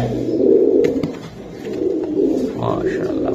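Newly bought Pakistani racing pigeons coo in low, throaty rolling calls, close and clear, swelling and fading in two long phrases with faint background rustle.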